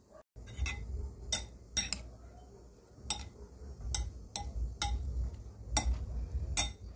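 Six chopped tomatoes are tipped into a bowl of onion, producing a series of crisp clinks and taps of a utensil against the bowl, spaced irregularly over soft rustling, close and moderately loud.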